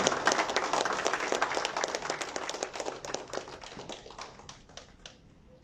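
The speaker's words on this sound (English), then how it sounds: "No further ado, let's give a round of applause." Audience applause at an association's annual general meeting opening ceremony in Saudi Arabia: dense crowd clapping that starts loud and gradually thins, with scattered individual claps near the end.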